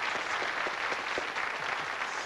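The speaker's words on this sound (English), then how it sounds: "Give her a nice round of applause." An audience at a magic show gives a round of applause for the magician's assistant during a sword box act, a brief, fairly faint patter of clapping from a crowd with no talk over it.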